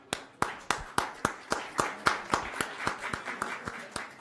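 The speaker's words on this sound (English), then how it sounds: "I think you truly deserve an applause" A small group claps at the close of a team-building workshop session: a steady run of roughly fifteen crisp, evenly spaced hand claps, close and moderately loud. No one talks over it.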